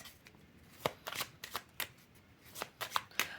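Tarot cards being shuffled by hand come through as quiet, close riffles and slaps in quick irregular bursts, alone with no talking.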